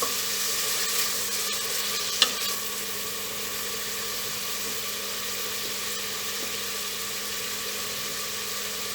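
Onion sautéing in a hot pan, a steady even sizzle close by with one small clink early on and no talking.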